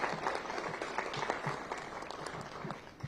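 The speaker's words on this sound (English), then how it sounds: "Give them a round of applause." Applause for a library team at a city government event with the mayor, a steady patter of clapping throughout the short span at moderate level.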